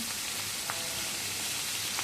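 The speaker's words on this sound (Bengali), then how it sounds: "আমি আজকে এটা ভেজে রান্না করেছি" Pabda fish frying in hot oil in a pan, a steady close sizzle and crackle running throughout with occasional small pops.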